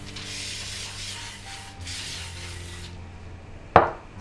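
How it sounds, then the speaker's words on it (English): Oil is sprayed onto baking paper for making string hoppers: a soft, breathy hiss that lasts a few seconds, then a sharp brief tap or clatter near the end. "You can spray the baking paper a little bit"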